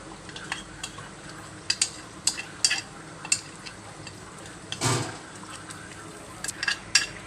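Chicken being stirred with masala for biryani in a pan, giving soft scraping and clinking of a spoon against the pot in scattered strokes, with one louder scrape, over a low steady background.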